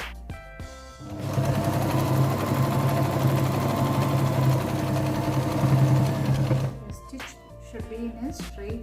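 A sewing machine stitches a cloth shopping bag made from old clothes, whirring steadily for about five seconds between quieter handling sounds at the start and end.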